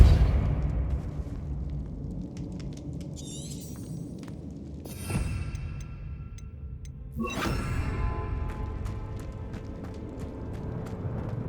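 Confringo and Depulso spell blasts in Hogwarts Legacy: two sharp, bright bursts a couple of seconds apart, each with a crackling shatter and ringing tail, over a low rumbling game ambience.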